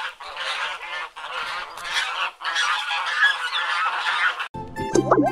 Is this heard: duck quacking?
yes